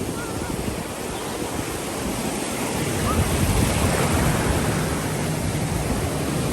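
Ocean waves breaking on a beach in Florida, a steady broadband wash of surf with light wind noise on the microphone, continuous and fairly loud throughout with a slight swell in the second half.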